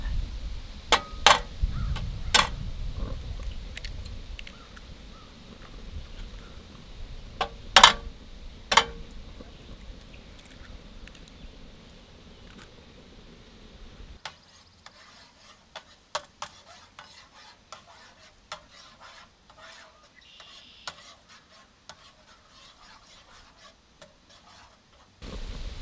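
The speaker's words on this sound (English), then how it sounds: "I don't have a bowl, so we're just gonna scramble it in the pan." Eggs are scrambled directly in a pan at a campsite, with sharp metallic utensil clicks and scrapes against the pan over a faint sizzle, irregular taps continuing throughout at close range.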